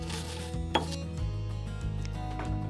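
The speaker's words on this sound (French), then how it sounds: "J'écrase grossièrement 12 spéculoos à l'aide d'un mortier." Speculoos biscuits are coarsely crushed in a mortar, producing a series of close, knocking pestle strikes and crunching thuds at an irregular pace, with no talking.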